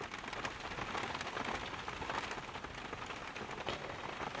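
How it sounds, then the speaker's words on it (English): Steady rain falls on a truck camper, a dense, even patter with no pauses, moderately faint and heard alone without any talk. "It is raining."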